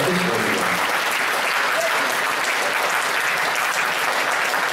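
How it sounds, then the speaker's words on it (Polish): A crowd applauds steadily and fairly loudly at a live music video premiere, the clapping dense and continuous throughout. "Fajnie, wielkie brawa."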